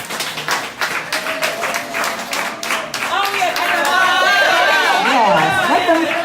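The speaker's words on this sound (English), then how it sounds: "Can we give our panelists a round of applause?" Panelists at a Women of Wakanda event get a round of audience applause: brisk clapping at first, then overtaken by loud overlapping chatter, cheering voices and whoops from the crowd.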